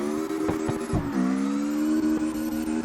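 A boxer-engine car revs in CarX Drift Racing Online, a steady droning exhaust note with short throttle blips early, then a pitch drop and a sustained loud hum.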